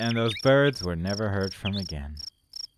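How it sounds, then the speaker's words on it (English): Short, regular high-pitched cricket chirps in the video game Barbie: Race & Ride sound between phrases of a man's speech and continue briefly on their own after he stops. "That's the sound of a cricket, not a bird."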